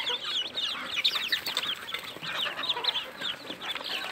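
Busy, high-pitched peeping and chirping from a crowd of ducklings at feeding time, with rapid overlapping calls continuing close by under steady background noise.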